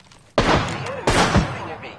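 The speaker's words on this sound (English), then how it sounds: "The enemy is shooting at me." Two heavy bursts of enemy gunfire ring out in a video game combat scene, each with a loud sharp onset and a rolling, blasty tail. Both sit close together and dominate the mix.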